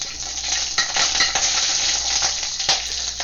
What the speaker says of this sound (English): in it goes the bok choy